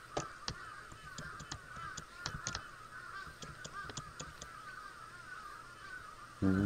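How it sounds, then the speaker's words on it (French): A flock of crows caws in the horror video game Paranormal Syndrome 2, with many overlapping harsh calls repeating steadily throughout. A loud low thump comes near the end. "On va se battre contre plein de corbeaux."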